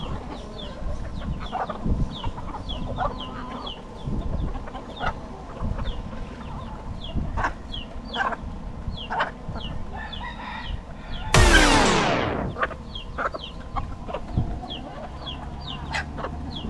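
Chickens outdoors in the Florida Keys fight near the ground, pecking close by. Clucks and squawks come in bursts, a rooster crows, and a sudden loud flapping scuffle erupts partway through.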